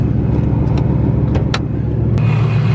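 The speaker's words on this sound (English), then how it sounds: "This car has a Paxton 2200 supercharger on it. It's a little loud." A 2011-2014 Mustang GT with a Paxton 2200 supercharger idles loudly with a deep, steady rumble and a faint high whine, close by and continuous.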